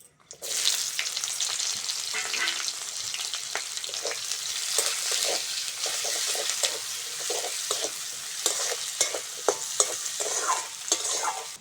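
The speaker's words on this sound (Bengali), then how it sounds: "এবার ওই তেলের মধ্যে কাঁচা লঙ্কা আর কুচোটা পেঁয়াজটা দিয়ে দেবো" Green chilies and chopped onion frying in hot oil left from frying potatoes and fish for a masala fish curry, a steady close sizzle broken by repeated sharp clicks of a spoon stirring, with no voices.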